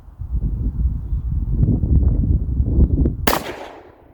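A single sharp report from a Smith and Wesson Shield Plus .22 LR pistol at a shooting range, a loud crack near the end following a stretch of low rumbling background noise.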